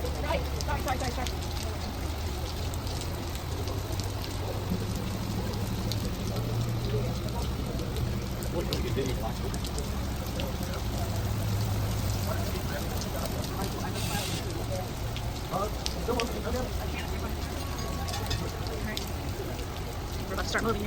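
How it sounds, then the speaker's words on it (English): Heavy rain pours steadily on a boat waiting in the Gatun Locks of the Panama Canal, a dense, constant hiss with low rumbling underneath that holds level for the whole stretch. "Rain's coming down hard again."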